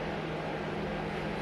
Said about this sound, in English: Sorry if y'all can hear the fan, well, the heater in the background.